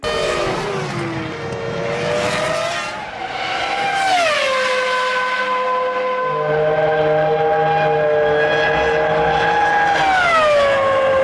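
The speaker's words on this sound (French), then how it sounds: "Ce fameux moteur avec ce son aigu, violent, métallique qui fait du bien quand on l'entend comparé à un moteur V6." Formula 1 V8 engines roaring at high pitch, loud and close, with sweeping rises and falls as gears shift and revs climb, a screaming metallic whine over rumbling low end.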